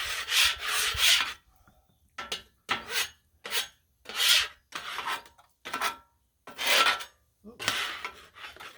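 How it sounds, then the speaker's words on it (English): A metal scraper rasps cooked-on shrimp scampi residue off a Blackstone griddle in about ten separate strokes, each a short harsh scrape with pauses between, close and alone. "we're gonna scrape off the Scampi part"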